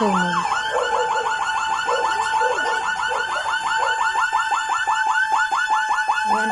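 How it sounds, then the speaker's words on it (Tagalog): A fire truck siren wails steadily and loudly as the engine arrives at a house fire, its repeating rising yelp continuous and close throughout. "dumating na po yung fire engine"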